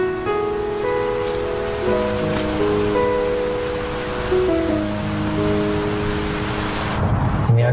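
Rain falls in a steady, broad wash of noise, largely masked by prominent background music.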